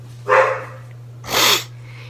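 A pet dog gives two short, sharp barks about a second apart, fairly close and loud, over a steady low electrical hum with no talking.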